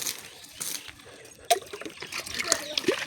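Water is poured onto a potted apple tree in a home garden, making close, intermittent splashes and trickles with a sharper splash partway through, while a voice talks at times.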